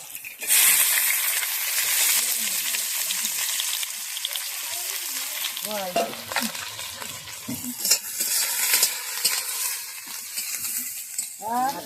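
Onion frying in hot oil with whole garam masala spices (cinnamon, cardamom, cloves, cumin) and two bay leaves, Bengali village-style cooking; a steady loud sizzle with stirring scrapes throughout, with faint voices in the background.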